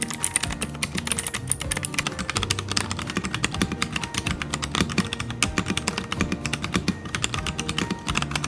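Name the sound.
typing on a crystal mechanical keyboard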